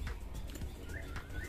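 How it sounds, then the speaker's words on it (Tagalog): Faint birds call and chirp in short bursts against a busy outdoor background, with a soft cooing quality; no clear talk. "huni ng ibon"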